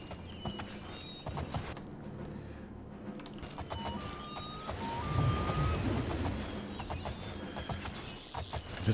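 Steady clip-clop of horse hooves at a brisk pace in the video game Oblivion, over a busy game ambience, with occasional chirps and tones layered on top.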